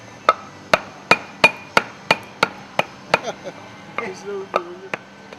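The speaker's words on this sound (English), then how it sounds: "Use a hammer and a piece of wood to hammer the piston into place in the air cylinder." A hammer strikes a piece of wood to drive a piston into an air cylinder, about a dozen sharp, evenly spaced knocks ringing out close by, with a voice speaking briefly near the end.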